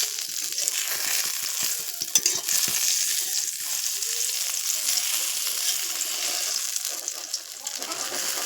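Eggplant sizzles steadily in a pan, a bright, continuous crackling fry with occasional stirring scrapes throughout.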